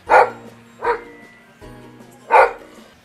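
Rescued dogs barking in short separate bursts, four sharp barks spaced irregularly over a few seconds, fairly close and loud against quiet surroundings, with no talking.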